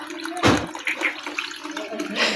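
Water runs and splashes in a short burst, likely from a tap or flush, with a strong surge near the start and a steady wet flow continuing underneath.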